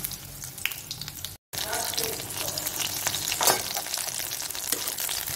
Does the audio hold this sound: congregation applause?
no